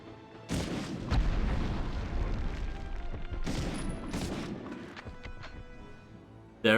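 Heavy explosions from a World War II shooter game, Medal of Honor (1999): two big booming blasts, the first near the start and the second midway, each followed by rumbling debris that slowly decays, with no talking.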